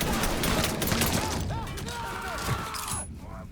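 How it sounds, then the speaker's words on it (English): Gunfire in the Mafia III video game: rapid, crowded shots and cracks with glassy shattering, loud at first and thinning out toward the end, with voices mixed in. "Shoot him from the side!"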